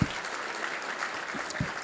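Light applause from the audience at a chamber of commerce State of the City event, honoring a mayor and city officials, a soft, spread-out patter of clapping with a few sharper claps near the end.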